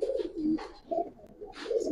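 Racer pigeons give several short, throaty coos in quick succession, near and clear with brief pauses between calls.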